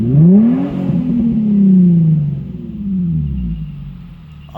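A Nissan 370Z with a muffler delete revs from inside the cabin, deep throaty exhaust rising and falling through a few swells, loud and close, with no talk.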